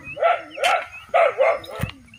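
A dog barks four times in two quick pairs, moderately close, with a faint thump near the end.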